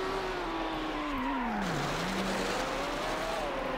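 A Ferrari F50 racing in Need for Speed: Hot Pursuit 2 on PS2, its engine droning steadily with a pitch that dips then climbs again as it shifts, plus faint tire noise, no talking.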